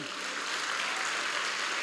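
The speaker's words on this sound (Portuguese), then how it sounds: "Podemos aplaudir a Jesus pela Daion." A church congregation claps in welcome during a service, a soft, steady wash of many hands heard at some distance for about two seconds.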